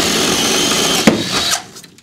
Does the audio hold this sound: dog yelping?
no